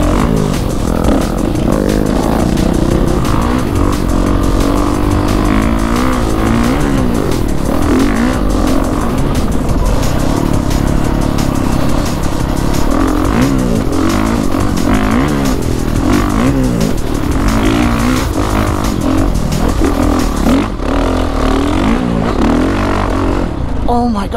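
Honda CRF450RX dirt bike climbing hills, its engine revving loudly and continuously up close, rising and falling with throttle changes, with a rider's voice talking over it.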